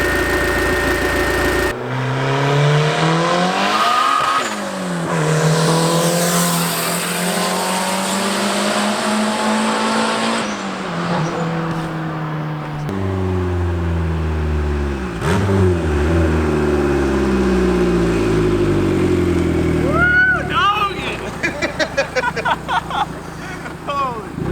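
A fully built turbo Honda Civic on a street pull roars hard through the gears, engine pitch climbing and dropping with each shift, loud and sustained, with turbo whoosh and rattling pops near the end.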